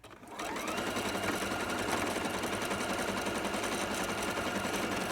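Sewing machine stitching stretchy Scrundlewear fabric starts up and runs in a fast, steady mechanical whir, close and continuous, with no talk.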